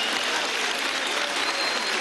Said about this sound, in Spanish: Fuerte el aplauso para nuestros líderes de nuestra revolución, hijos de Chávez.